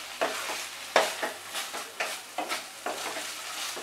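A spoon scrapes and stirs Bengali banana flower curry with a sprinkle of garam masala in a pan, making a series of about ten soft, regular scraping strokes over a faint sizzle, fairly close and quiet.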